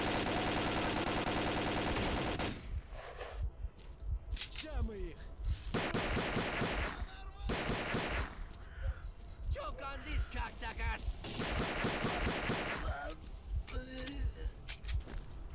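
Bursts of full-auto rifle fire in the S.T.A.L.K.E.R. Clear Sky video game, loud close rattling volleys separated by brief pauses, repeating several times with intermittent in-game sounds between them.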